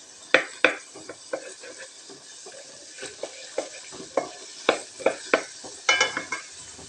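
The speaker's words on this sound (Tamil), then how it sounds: "இப்போ இஞ்சி பூண்டு விழுது வதங்கிடுச்சுங்க." Ginger garlic paste and onions sautéing in oil for biryani, a low sizzle broken by a series of sharp spoon scrapes and clinks against the pan at irregular intervals, close and clear with no speech.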